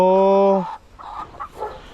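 Backyard hens clucking as their eggs are collected: one loud, drawn-out squawk up close at the start, then softer, scattered clucks.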